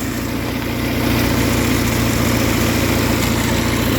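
An Alfa Romeo engine fitted with a Chinese Weber 32/36 carburetor idles steadily and close by, a low, even rumble that rises a little in level after the first second, with no voices.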